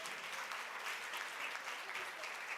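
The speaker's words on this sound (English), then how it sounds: "please give them a round of applause" Sustained audience applause at a conference, steady and dense clapping from a sizeable crowd throughout, with faint voices mixed in.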